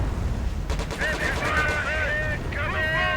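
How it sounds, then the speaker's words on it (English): Rapid bursts of MG42 light machine gun fire in the Company of Heroes Blitzkrieg mod, distant-sounding rattling shots mixed with battle noise while someone narrates over it. "because I have that MG42 light machine gun"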